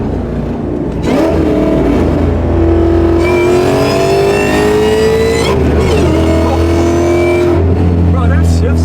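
An 850 hp supercharged Ford Mustang roars loud and close, its engine climbing through hard revs with sharp shift breaks and renewed pulls, while people talk over it.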